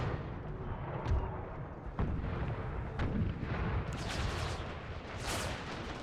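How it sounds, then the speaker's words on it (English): Cannon artillery booming in an Empire: Total War battle with the Brothers vs. Brothers Civil War mod, several deep distant blasts spaced about a second apart over a rumbling battlefield din with crackling bursts. "I wait to see if my cannons can do enough damage to make them advance"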